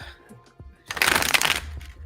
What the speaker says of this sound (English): Get a nice shuffle going.